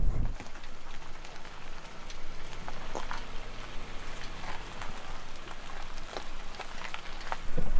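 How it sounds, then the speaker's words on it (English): Cold rain falling at a campsite, wet and heavy like sleet, with a steady close patter and hiss of drops on surfaces and the odd louder tap, with no talking. "So the rain coming down right now feels kind of like wet snow."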